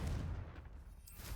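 A Confringo fire spell explodes against rocks in Hogwarts Legacy, giving a short, muffled booming blast with a rumbling low tail that fades within about a second.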